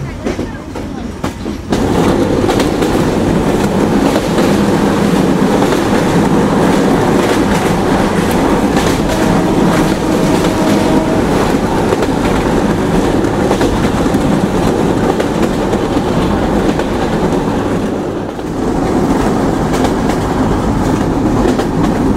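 The Rupsha Express, a Bangladeshi intercity train out of Khulna, runs along the rails with a loud, continuous rumble and rhythmic clatter heard from on board, briefly dipping near the end before resuming.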